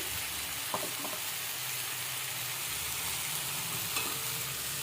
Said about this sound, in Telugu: వేసుకుని కొంచెం కలిసి కలుపుకోవాలి